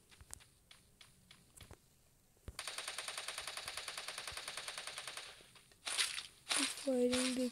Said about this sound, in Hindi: फायरिंग देखते हैं कि कैसे हो रही है।